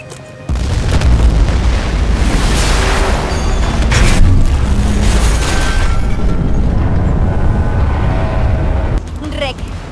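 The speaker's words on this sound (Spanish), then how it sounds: "Volate ese barco ya!" A ship blown up in a Battlefield 4 video game scene: a loud, sustained explosive roar and rumble fills nearly the whole stretch, dropping off near the end, with voices mixed in.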